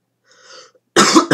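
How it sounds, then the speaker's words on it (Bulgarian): A person who is ill coughs during a Clash of Clans gaming session. A faint, low sound comes first, then a loud, close harsh cough of about half a second, followed by a short second burst. "Извинете, че кашлям"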